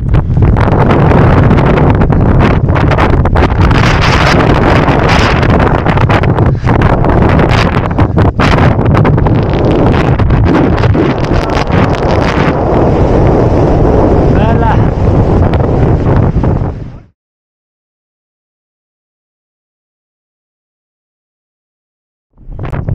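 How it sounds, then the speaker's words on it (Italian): Strong gusty wind buffets the microphone on an exposed mountain in the Dolomites near Cortina d'Ampezzo, a loud continuous roar under faint voices that cuts off abruptly near the end. "c'è un vento esagerato"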